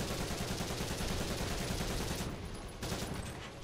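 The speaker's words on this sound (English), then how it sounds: "I see you shooting at the ground over there" Steady automatic gunfire from War Thunder armored combat, a dense continuous rattle of rapid shots, loud and close, running almost the whole time with a brief dip near the end.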